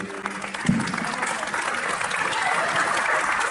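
An audience applauds a speaker at a book fair presentation in Solares. The steady, dense clapping starts just after a brief bump and continues evenly, fairly close and full, with no talking over it.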